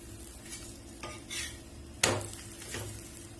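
A broccoli-stuffed chapathi cooking with a little ghee on a pan, soft low sizzling broken by a few quiet utensil taps and one sharper metallic clink midway.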